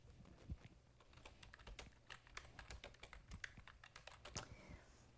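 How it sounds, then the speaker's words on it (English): Fingers tap away on a computer keyboard in quick, irregular bursts of clicks, faint and close, with no voices. "I'm going to type that here."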